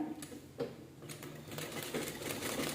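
A new domestic sewing machine stitching fabric, running in steady rapid mechanical bursts with a rhythmic clatter, close and fairly loud, with no talking.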